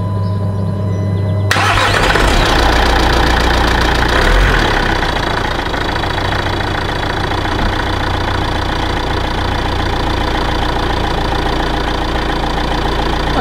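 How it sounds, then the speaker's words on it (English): A campervan engine cranks and catches after a quiet moment, revs briefly, then settles into a steady, loud idle that continues to the end. "the engine started"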